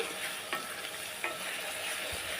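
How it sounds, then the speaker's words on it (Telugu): Biryani ingredients frying in a pan, a steady close sizzle with a few scraping stirs of a spoon, no voices. "ఇది బాగా ఫ్రై అవ్వాలండి"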